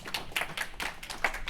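Sparse applause from a small audience at a data quality symposium session, a handful of distinct, uneven claps from a few hands, close and fairly quiet, with no talk over it.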